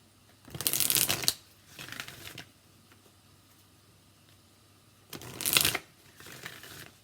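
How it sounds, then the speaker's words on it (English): A deck of oracle cards is shuffled loudly and close by in two separate bursts, each a crisp riffling flutter, with quiet pauses in between. "I understand that the shuffling is pretty loud"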